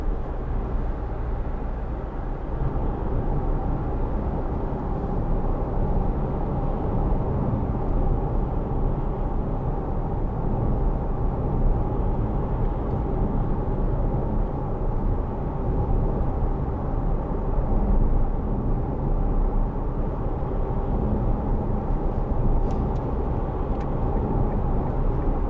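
A 2010 Kia Sportage 2.0 CRDi First Edition AWD on the move gives a steady, even roar of tyre and road noise from inside the cabin, constant and unbroken, with no one talking.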